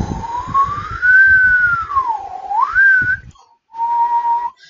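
A person whistles a clear sustained note that glides up and down in pitch, then pauses and holds a steadier tone, close and loud with faint breathy background.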